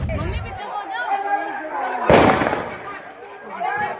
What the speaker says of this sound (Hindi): रात का वीडियो है, इसमें आप गोली चलने की आवाज सुन पाएंगे।